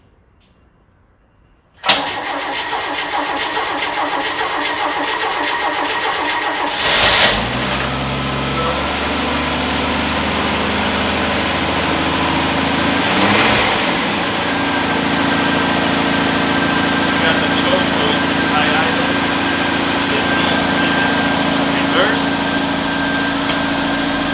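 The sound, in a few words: 1964 Chevrolet Impala engine starting and running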